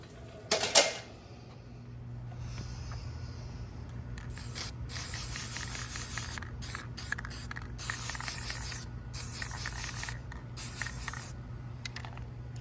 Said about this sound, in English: I'm gonna get the spray can out and we're gonna hit the top of this with a little paint